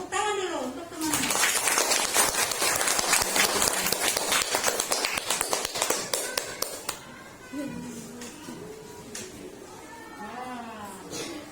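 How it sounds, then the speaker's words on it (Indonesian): A classroom of students claps for their classmates in a burst of fast, dense applause lasting several seconds. It starts abruptly, tapers off, and gives way to a teacher and children talking. "Tepuk tangan dulu untuk teman-teman."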